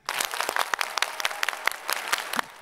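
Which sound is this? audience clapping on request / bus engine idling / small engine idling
audience clapping on request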